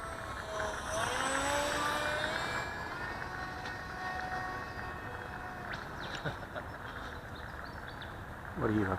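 Small radio-controlled model airplane flying at a club field, its engine drone steady in the background with people talking nearby.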